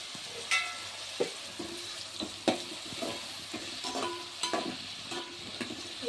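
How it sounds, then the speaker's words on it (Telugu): Eggplant pieces frying in oil in a pan, a soft steady sizzle with repeated scraping stirs of a spoon at irregular intervals, close but fairly quiet with no talk. "వీటిని అయితే ఆయిల్లో మంచిగా ఫ్రై చేసుకోవాలి ఒక టెన్ మినిట్స్ వరకు ఫ్రై చేసుకోవాలి"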